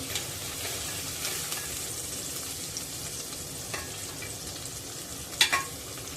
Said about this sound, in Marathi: गुलाबी रंग येईपर्यंत परतून घ्यायचा आहे